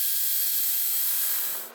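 A power drill bores a hole through the roof of an Airstream trailer, giving a steady, bright, hissing whine held close for over a second before it winds down and fades at the end.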